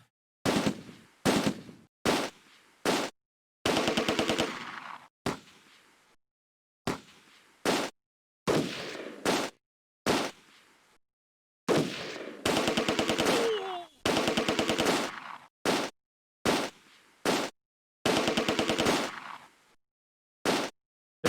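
Machine gun fire in the Close Combat: A Bridge Too Far war game: a dozen or so loud, sharp bursts of varying length, separated by short silences, with no voices.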